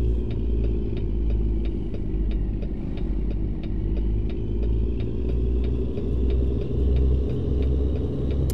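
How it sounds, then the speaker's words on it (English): Detroit diesel engine on a Freightliner Classic XL truck in American Truck Simulator, a steady deep idle rumble with a faint regular ticking on top, loud and constant with no talk. "I like this little Detroit diesel, man. This thing sounds pretty good."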